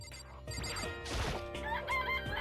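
A chicken clucks and crows in the Danganronpa video game, with squawks and a brief crash mixed into busy game audio.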